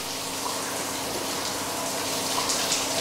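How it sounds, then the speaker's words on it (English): Silver-plated foil is rinsed at a vinyl record plant, water gushing and spraying in a steady, loud rush with a continuous hiss and no talk. "The residues on the back are removed with a sponge before the foil is rinsed again."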